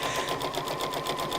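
A sewing machine stitches a seam in a rapid, even mechanical chatter, close and moderately loud, running continuously through the short stretch with no voices.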